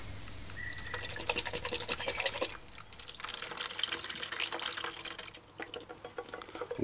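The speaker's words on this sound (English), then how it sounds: "it's best if you do this part under fresh running water." Tap water runs steadily into a sink while canned broad beans are rinsed under it, a soft continuous splashing with brief clinks and shifting, heard close and alone.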